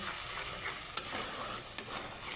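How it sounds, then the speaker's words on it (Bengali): A spice paste seasoned with coriander powder and cumin powder is stir-fried in a pan. The soft, steady sizzle is fairly quiet and close, and two sharp spatula clicks stand out near the middle. "এই ধনিয়ার গুঁড়ো দিয়ে মশলাটাকে আমি সুন্দর করে কষিয়ে নেব"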